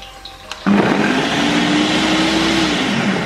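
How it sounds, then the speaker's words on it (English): A blender starts abruptly and runs steadily, whirring loud and close as it purees onion, ginger, garlic, tomatoes, scotch bonnet and shallot with no water added, after a brief quieter moment of faint handling sounds. "Blend the mixture."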